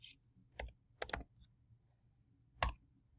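Typing on a computer keyboard, three quick clusters of sharp clicks with pauses between them, close and quiet in an otherwise still room with no voice.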